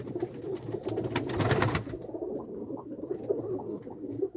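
Many pigeons, some fifty-odd birds, coo together in a loft, a steady murmur of overlapping low calls near and far with a louder burst of fluttering in the middle.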